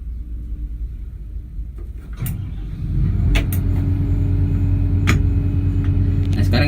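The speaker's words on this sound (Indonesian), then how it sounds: "sekarang engine sudah running" A XCMG XR220E rotary drilling rig's diesel engine starts and settles into a steady idle near 936 rpm, a low, continuous rumble that grows louder partway through and holds, with no talking.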